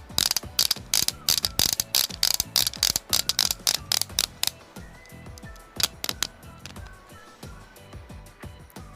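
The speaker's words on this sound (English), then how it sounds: "let me demonstrate how a ratchet joint's supposed to work" Ratchet joint on a Lego Galidor action figure being worked, giving rapid, loud mechanical clicks that come in dense bursts at first, then thin out into slower, scattered clicks.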